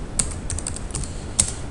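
Steady clicking of keys on a computer keyboard, with two sharper keystrokes standing out, close and fairly quiet.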